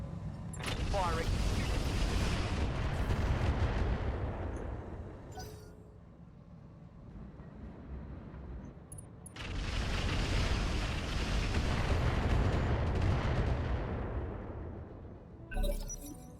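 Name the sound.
mech weapons firing, from the video game Roguetech (BattleTech mod)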